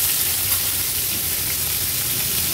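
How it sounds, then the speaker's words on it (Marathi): Chopped onions frying in a hot tempering of cumin seeds and asafoetida, a steady dense sizzle that runs without a break. "गॅसची फ्लेम आता लो करून कांदा थोडासा परतून घ्यायचा आहे"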